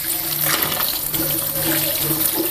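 Tap water running steadily and fairly loud while spinach greens are washed in a sink, a continuous close splashing rush with no talking.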